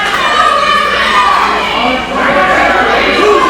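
A wrestling crowd at a live match cheers and shouts in a steady, loud roar that holds throughout, with higher young-sounding voices mixed in.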